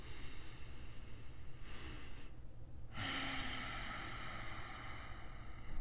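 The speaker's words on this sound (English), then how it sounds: "Take a huge 8-second breath." One deep, long breath drawn in and let out slowly, close and soft, with a quiet airy rush and steady background noise.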